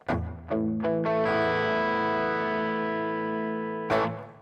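A distorted electric guitar rings out through heavy reverb from a NUX Core reverb pedal, a few picked notes then a long sustained chord that slowly fades before another strum.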